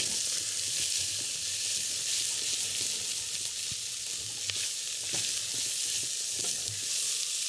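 Carrot, onion and garlic with a little oil sautéing in a pan, a steady close sizzle with occasional pops and stirring scrapes, no talking.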